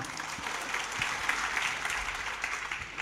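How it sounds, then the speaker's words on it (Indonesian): A church congregation applauds during a sermon, a steady dense wash of clapping from many hands that holds evenly throughout, moderately loud and a little distant. "Tepuk tangan, tepuk tangan."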